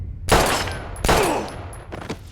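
Three gunshots from the game Life is Strange, a loud close shot, a second equally sharp one, then a quieter pair near the end, each ringing out with a decaying tail.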